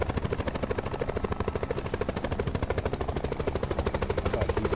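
Helicopter in the video game Call of Duty Blackout, its rotor beating in a fast steady pulse, loud and close, running alone without talk.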